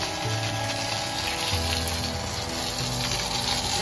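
Water from a hose or pipe splashes steadily onto plants in a home garden. The flow is continuous and moderately close, with a faint low hum running beneath it and no voices.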